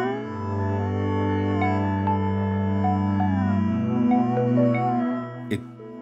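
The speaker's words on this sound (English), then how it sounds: "I use it to make generative ambient, I would say, and it sounds kind of like this." Generative ambient music from an Ableton Push 3 running standalone: sustained, layered synth drones and soft evolving tones that shift gently over several seconds, with a faint click near the end.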